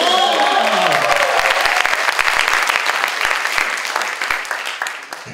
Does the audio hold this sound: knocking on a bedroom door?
no